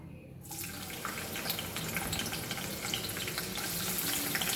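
Onion tipped into about a tablespoon of hot oil for a Goan fish curry bursts into a dense, bubbling sizzle that holds steady and close for several seconds.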